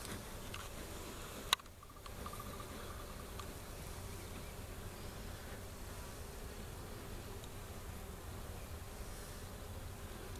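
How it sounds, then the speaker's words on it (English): Honey bees packed inside a swarmed hive during a February inspection give off a faint, steady, even buzz throughout, with one sharp click near the start. "But the bees are packed in here"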